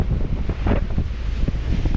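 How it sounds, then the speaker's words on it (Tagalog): Rough sea with swells of 8 to 9 feet surges around a slow-moving motherboat in the West Philippine Sea, with waves splashing and strong wind buffeting the microphone in a continuous close roar. "Katulad kahapon, maalon pa rin hanggang ngayon, no?"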